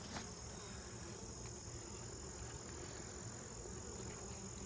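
Honeybees fly in to a mating nuc carrying pollen, a steady, soft insect hum filling the air continuously with no talk.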